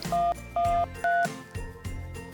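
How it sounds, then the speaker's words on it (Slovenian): A telephone keypad dials a short number, three distinct DTMF tones in a steady rhythm, each followed by a clunk, then softer handling knocks on the handset. "On je vzel v roke telefonsko slušalko in na številko 112 poklical reševalce."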